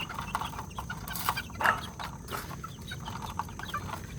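White Escolin Muff and Bulik chicks peep and cheep in quick, thin bursts against a soft, steady background. The calls come close and clear, with no talk.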